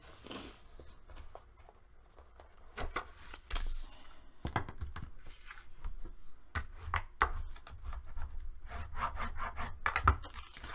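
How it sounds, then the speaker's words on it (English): Paper being burnished for a handmade mini album, heard as close, quiet scraping and rubbing strokes in irregular bursts, with soft handling noises between them and no talking. "We're going to go ahead and burnish."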